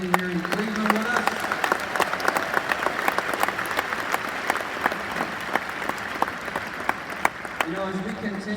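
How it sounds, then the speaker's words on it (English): A conference crowd in Cleveland gives a full round of applause, dense and sustained for several seconds at a fairly loud, even level, with faint voices audible at the start and end. "So give yourself a round of applause for being here in Cleveland with us."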